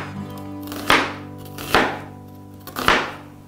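Knife chopping an onion on a cutting board for Korean stir-fried pork, three firm separate chops with short pauses between, close and clear, no voices.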